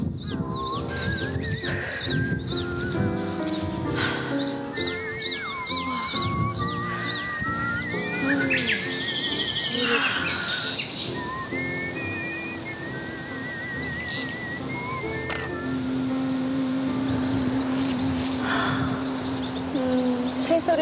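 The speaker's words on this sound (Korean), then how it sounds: "새소리도 찍을 수 있으면 좋겠다." Birds sing through the spring mountain air on Yeongchwisan, with varied chirps and warbling phrases layered over a steady, fairly busy background.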